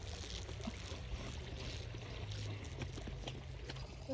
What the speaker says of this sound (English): So let's have a look at Milo and the water hose.